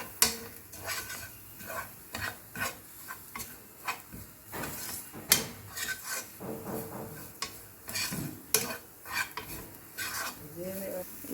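A spoon stirs and scrapes egg noodles with masala powder around a pan, giving repeated close scraping strokes in an uneven rhythm over a soft background sizzle, with faint voices now and then.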